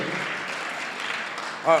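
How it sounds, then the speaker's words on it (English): Steady applause from an audience at a high school Black History Month assembly fills the clip, broad and even, ending with a brief voice at the very end. "Can we give a big round of applause to Alfred Cazot?"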